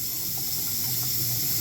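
Warm tap water runs steadily from a faucet into a nasal rinse bottle, a continuous close, even hiss of flowing and filling water with no voices.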